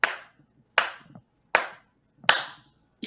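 Five sharp, close hand claps ring out alone at a slow, steady pace, each a crisp, loud slap with a short decay and silence between.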